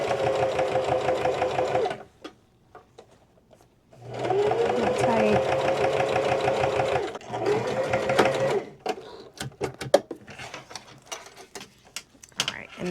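Sewing machine top stitching a boxy bag liner, running in steady bursts of rapid stitching with short pauses between, close and loud, with a few handling clicks near the end.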